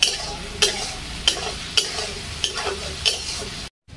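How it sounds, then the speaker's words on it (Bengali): Capsicum and mixed vegetables stir-fried with salt in a pan for fried rice. Rhythmic scraping strokes about every half-second ride over a steady close sizzle before cutting off to silence. "এবার দিয়ে দেবো ক্যাপসিকামগুলো। দিয়ে দেবো একটু লবণ সবজিতে।"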